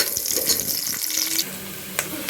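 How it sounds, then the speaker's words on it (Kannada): Onion fries in a pan until golden, for a mushroom biryani, a soft sizzle with occasional stirring scrapes and clinks, steady and close. "ಆನಿಯನ್ನು ಚೆನ್ನಾಗಿ ಗೋಲ್ಡನ್ ಫ್ರೈ ಆಗೋವರೆಗೂ ಚೆನ್ನಾಗಿ ಫ್ರೈ ಮಾಡ್ಕೊಳ್ಬೇಕು"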